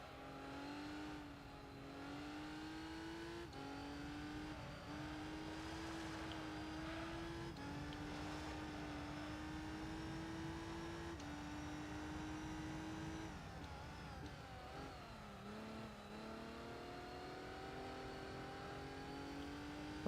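Race car in Gran Turismo 3 with a steady, droning engine note whose pitch rises and falls through shifts and corners, continuous and fairly quiet with no talk.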